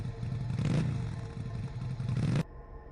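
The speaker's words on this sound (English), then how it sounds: "I heard the distinct sound of motorcycle engines, plural this time, approaching the cabin." Motorcycle engines, more than one, rumble steadily as they approach a cabin at night, with a swelling mid-range drone and rough clatter that cut off abruptly near the end.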